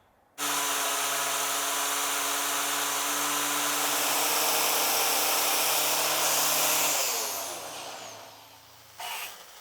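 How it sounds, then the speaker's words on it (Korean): Grinder runs on a 22-year-old BMW E39 530i during engine work, holding a steady high-pitched whine for about seven seconds before spinning down. A brief burst follows near the end, loud and close. "그라인더 쓸 때는 이걸 분명히 숙지하고 있어야 돼."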